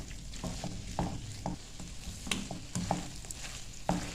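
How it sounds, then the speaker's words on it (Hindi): Chicken nugget stuffing being stirred with a cornflour mixture in a pan, giving soft wet scraping and tapping of a spoon at an irregular rhythm with a faint steady sizzle underneath, close and fairly quiet. "और अब ये कॉर्नफ्लोर वाला मिक्सचर जो है मिक्स करके हम इसमें ऐड कर देंगे, ठीक है। अब हमें इसको अच्छे से मिक्स कर लेना है।"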